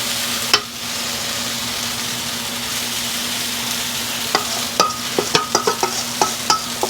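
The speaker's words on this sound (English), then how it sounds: "Listen to that sizzle." Steady, crackling sizzle of salmon patties frying in a hot pan over medium-high heat, with a low hum beneath and a few sharp pops and clinks of a utensil near the end.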